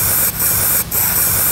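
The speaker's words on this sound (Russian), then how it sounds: "В итоге выбор женщины пал на баллончики." An aerosol spray paint can hisses in steady, loud bursts, broken by two short pauses, as a woman paints handmade yard decorations in Noyabrsk; no one talks.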